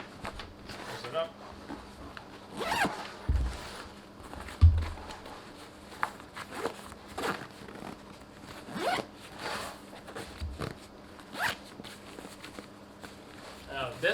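A zipper being pulled closed around a flatpack bag, several quick rasping pulls and tugs close by, with handling noise and a person talking throughout.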